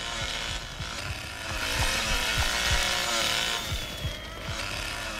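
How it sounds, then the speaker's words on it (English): Chainsaw in the Texas Chainsaw Massacre video game, a low buzzing engine drone that swells and revs through the middle and carries a rhythmic chugging pulse, with faint game sounds behind it. "I'm not letting you hit me with that chainsaw"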